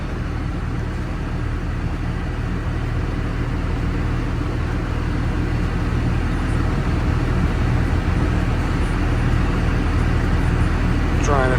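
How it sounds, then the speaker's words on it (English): Inside a Dodge Ram 2500 with a 5.9L Cummins, the AC blower pushes cold air in a loud, steady rushing roar that fills the cab without letup, and a faint voice sits under it. "It is blowing freezing cold air."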